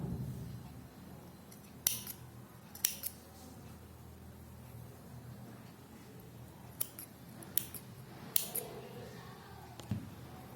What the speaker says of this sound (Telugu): సారీ అంతా కట్టిన తర్వాత ట్రిమ్ చేసుకోండి ఇవన్నీ.